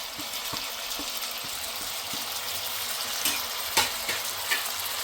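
Tomatoes stirred into a curry frying in a pan, a steady loud sizzle with faint wet scraping and a few brief clinks from the spoon against the pan.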